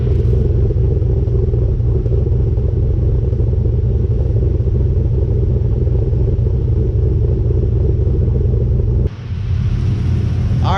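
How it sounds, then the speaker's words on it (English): A turbocharged 6.0L engine swapped into a Nissan 240sx idles through the muffler, heard from the rear of the car as a loud, steady low rumble that shifts abruptly near the end. "let's go to the back so you can hear what it sounds like going through the muffler and not the loud valve"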